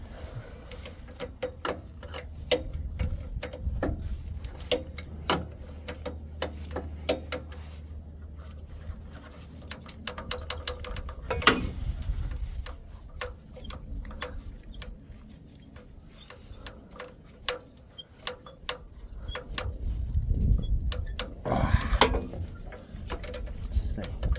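A line wrench loosens a fitting on a CAT 980M wheel loader, giving sharp, close metallic clicks and taps in irregular bursts over a low mechanical rumble.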